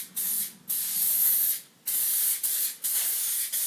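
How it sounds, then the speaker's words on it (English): Silicone spray hisses onto a car window's rubber seal during quarter light assembly, in about five close, loud bursts separated by short pauses. "We've got some silicone spray which it will aid the insertion."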